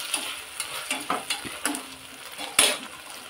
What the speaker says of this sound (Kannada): ಇದು ಸ್ವಲ್ಪ ಚೆನ್ನಾಗಿ ಫ್ರೈ ಆಗಲಿ.